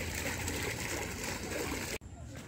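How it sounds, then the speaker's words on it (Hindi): A water fountain in Sunder Nursery park, Delhi, at night gives a steady broad wash of rushing, splashing water close by, with faint voices in the background and a momentary sharp break in the sound near the end. "ये कितना ब्यूटीफुल फाउंटेन लगा हुआ है, यहाँ से ही पानी जा रहा है"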